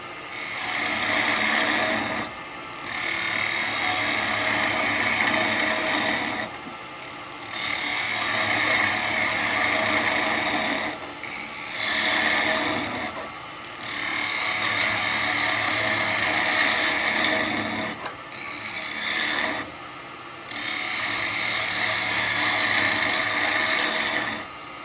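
Carbide tool cutting into the inside of a very hard hardwood bowl on a woodturning lathe: a steady, loud scraping whir that runs in long passes separated by short pauses, with no talk.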